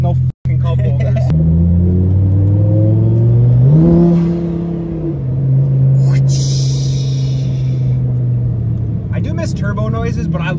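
A supercharged Dodge Hellcat engine drones steadily and climbs in pitch as it revs up, then settles into a sustained hum, with a brief hiss and clatter near the end.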